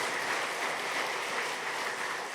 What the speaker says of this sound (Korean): 우리 감사와 격려의 박수 한번 보내겠습니다